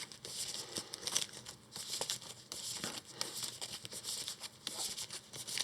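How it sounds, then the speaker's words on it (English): Cards for the Arkham Horror card game are shuffled in quick, papery bursts of riffling and crinkling, fairly soft and close, with no talking. "Okay, I think that's enough shuffling"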